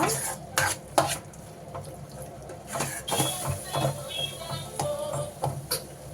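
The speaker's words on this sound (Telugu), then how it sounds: "అల్లం వెల్లుల్లి పేస్ట్ కూడా వేసేస్తున్నాం బాగా కలుపుకోవాలి" Ginger garlic paste being stirred into prawns frying in oil, a steady sizzle broken by repeated scraping and clinking of a spoon against the pan, close and fairly loud with no talking.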